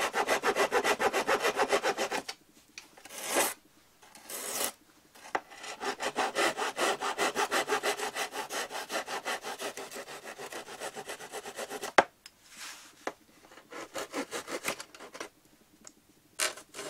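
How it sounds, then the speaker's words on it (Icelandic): Hand saw cutting small wood pieces for a Kwik-fli Mk III model aircraft, steady rhythmic back-and-forth strokes, close and fairly loud, with a few short pauses between cuts. "Ég þarf að saga"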